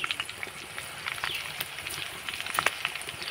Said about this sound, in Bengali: এবার আমি একটুখানি তেলের সঙ্গে লঙ্কাটা ভেজে নেব।